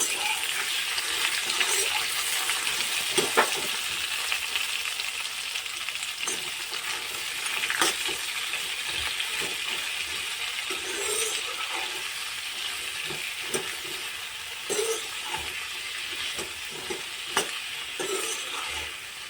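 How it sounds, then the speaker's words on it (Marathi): Tomatoes and cashews fry in a hot pan with garlic and chili, a steady close sizzle broken by repeated clicks and scrapes of stirring, with no talking. "टोमॅटो आणि हे काजू चांगले आपण असे त्याला फ्राय करून घ्यायला लागतो"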